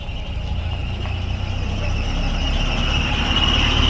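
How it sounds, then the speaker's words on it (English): A Bristol VR double-decker diesel bus rumbles steadily nearby, its engine drone growing slightly louder as it moves past amid road noise. "Cheltenham District bus, there we are. Bristol VR, P-Reg there."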